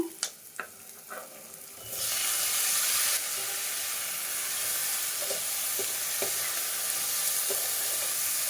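Chopped onions and tomato pieces hit hot oil in a pan, breaking into a loud, continuous sizzle after a few spoon taps, with steady hissing and occasional stirring clicks close by.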